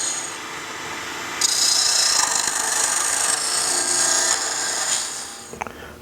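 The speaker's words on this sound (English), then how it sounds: "I now turn the knob itself, which is really just a large bead" A wood lathe spins a pair of Shaker-style wooden knobs as the tool cuts, a bright scraping rasp that starts abruptly and holds steady for several seconds, close and loud, then tapers off with a couple of light knocks.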